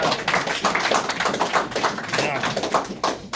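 A room of workshop attendees applauds Tony's 35 years of sobriety, a dense, steady wash of many hands clapping at close range for the full few seconds, with the claps blurring into a continuous patter.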